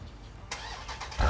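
A Jeep Trackhawk started by remote catches with a sharp burst halfway through and settles into a low idle, then rises in a rougher surge at the end, heard alone at moderate distance.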